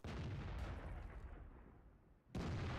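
Artillery guns fire in World of Tanks, two deep booms: a heavy blast at the start that rumbles and decays over about two seconds, then a second sudden, loud report near the end.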